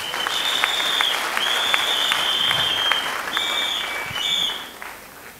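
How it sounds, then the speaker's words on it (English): A church congregation clapping hands together during a sermon, a steady burst of crowd applause under a sustained high tone that fades out near the end. "Give Jesus a clap of hands."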